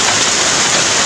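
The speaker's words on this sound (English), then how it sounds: "Also right now it's very heavy rain" Heavy rain pours down steadily in a rainy-season downpour, a dense, loud, continuous hiss with no breaks and no voices over it.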